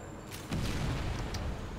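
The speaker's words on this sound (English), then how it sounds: "Ah, that shouldn't have exploded." A deep explosion booms in the Kill the Emoji remake war game, one sudden low blast that cuts in midway and rumbles on, with sharp crackling bursts on top.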